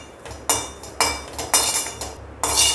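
Curry leaves dry roasting in a pan for tamarind rice paste rattle and scrape in four or five sharp, rhythmic bursts, like a spoon stirring and tossing them against the metal, close and fairly loud.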